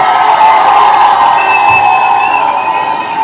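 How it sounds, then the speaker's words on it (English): An audience breaks into sustained applause and cheering after a panel discussion, a dense, loud wash of clapping with whoops and shouts running steadily throughout. "You all deserve a round of applause."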